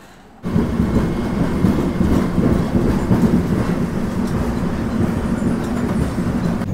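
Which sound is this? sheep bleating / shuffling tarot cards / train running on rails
train running on rails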